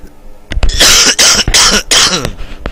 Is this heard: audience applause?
no